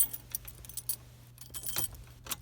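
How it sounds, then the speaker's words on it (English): A car key is pulled fully out of the ignition of a 1993 Ford Escort and slid back in, giving a few close metallic jingles and scrapes over a steady low hum. "If I take the key completely out and put it in"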